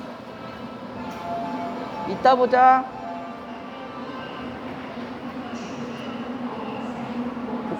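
A subway train rumbles steadily from inside the carriage, a continuous low hum and rolling drone throughout, while a person speaks briefly over it partway through.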